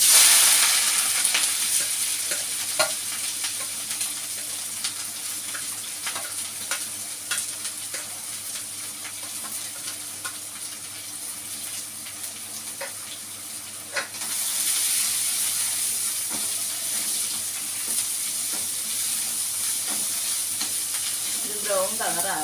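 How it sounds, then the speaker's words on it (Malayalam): Garlic, onion, green chili and curry leaves sauté in hot oil with a continuous bright sizzle and intermittent stirring clatter, loud and close, briefly easing before rising again. "നമുക്ക് ഈ വെളുത്തുള്ളിയും ഉള്ളിയും പച്ചമുളകും കറിവേപ്പില എല്ലാം കൂടിയിട്ട്"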